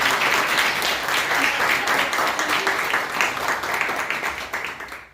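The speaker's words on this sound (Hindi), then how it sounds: "एक बार और जोरदार तालियां बजाएं।" Loud, dense applause from a crowd at an institute's exam selection celebration rolls on steadily and then tapers off at the very end.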